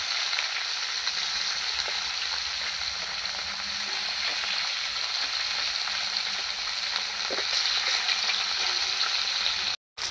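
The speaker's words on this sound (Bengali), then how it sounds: "সব মাছগুলো আমার কড়ার মধ্যে ধরে যাবে, সবগুলোই আমি একসাথে ভেজে নেব।" Steady, close hiss and crackle of fish frying in hot oil, continuous throughout with a brief dropout near the end.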